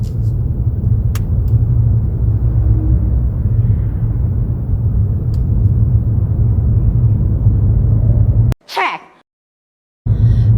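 Steady low engine and road rumble inside a car driving straight along a city road, constant and close, ending with a brief click before sudden silence.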